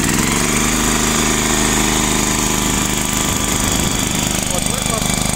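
Engine of a STAR MRB0850W Japanese self-propelled tracked round baler running loud and steady at close range, a dense roaring drone with a continuous rattling throb, and a voice talking faintly underneath.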